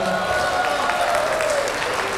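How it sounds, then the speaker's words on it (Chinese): Wedding dinner guests clap in sustained, dense applause from a crowd, steady and fairly loud for the whole stretch. "第五个视频的掌声。"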